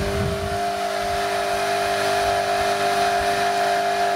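A McColl 2800 RPM electric motor running on a VFD gives a steady whining hum with strong constant tones and a faint mechanical rattle, continuous and close with no speech.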